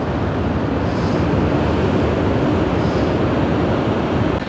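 Sea waves surge below a cliff in Australia with a loud, continuous roar and wash, mixed with wind buffeting the microphone.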